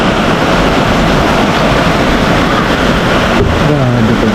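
Heavy rain pounds down loud and unbroken on a shelter with the windows kept shut, a dense roar that lasts the whole stretch.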